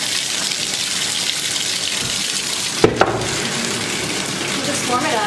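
Warm tap water runs steadily from a faucet to fill a small baby bath, a constant close gush with a couple of brief knocks partway through.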